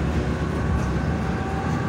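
A tram rolls past at close range on a city street, a loud, dense, steady rumble that fills the whole moment without a break.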